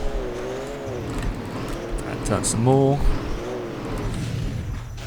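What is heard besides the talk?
monster truck engine driving in the video game Rigs of Rods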